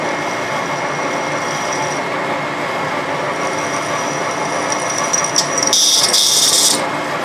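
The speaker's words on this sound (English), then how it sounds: "we'll just drill this hole." Steady, loud mechanical whirring and grinding of a power drill boring a hole in a socket for a tapping machine, ending with a brief harsher, brighter screech.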